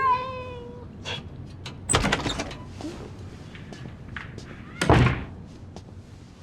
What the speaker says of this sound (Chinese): 没想到你还养猫啊